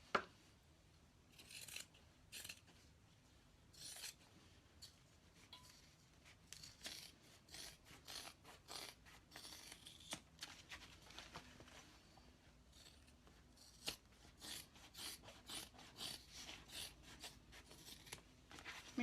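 Scissors trim a fabric seam allowance on a sewing project, making a quiet, close series of irregular snipping cuts with soft rustling of cloth between them.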